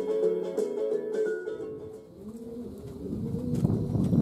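Racing pigeons coo continuously in a loft, several birds close by, with overlapping throaty calls that rise and fall in a steady, layered rhythm and no talking.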